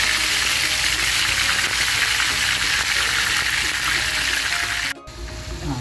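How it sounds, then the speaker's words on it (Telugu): Chicken pieces sizzle and crackle steadily in hot oil for a restaurant-style Afghani chicken, a loud continuous frying hiss that drops briefly near the end before carrying on. "నూనె వేడెక్కింది ఇప్పుడు దీన్ని ఫ్రై చేస్తాం"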